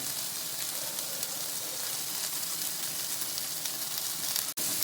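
Chilli powder and sambar powder sizzling in hot oil for Bombay sambar, a steady close crackling fry throughout with a brief clink near the end.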